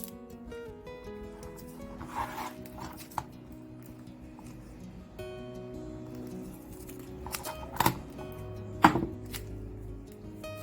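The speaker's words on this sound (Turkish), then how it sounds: "Şu kullanacağım bölümünü buraya koli bandının üstüne yapıştırıyorum ve kesiyorum" Clear packing tape and paper being cut for a paper heart frame, quiet rustling and rubbing with a few sharp snips and crinkles, fairly close and without speech.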